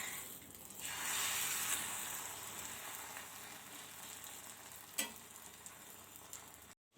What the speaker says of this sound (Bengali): তাতে যেহেতু ডিম ভাজা হয়েছে ওই জন্য ওটাতেই ডিম ভেজে নিলাম